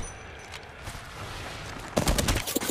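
Gunfire in the shooter game Apex Legends, a continuous rattle of shots that grows into a louder, denser volley in the last second.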